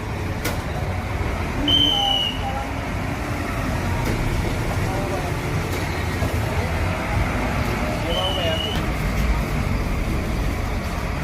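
Steady road rumble of the Ramayana 055 bus travelling full, a continuous low drone with faint passing traffic and occasional brief tones.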